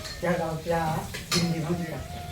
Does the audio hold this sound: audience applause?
no